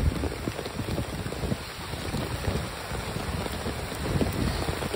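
Rain falls steadily beside a small river at Diamond Harbour, a dense patter of drops on surfaces mixed with gusty wind noise on the microphone, with no talking.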